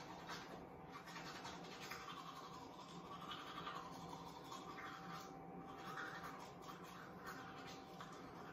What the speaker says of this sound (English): So we just finished the brushing of the teeth.